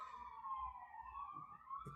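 Distant emergency vehicle sirens wail in a steady rising and falling tone, faint and far off, continuous for the whole stretch with low background rumble and no talk.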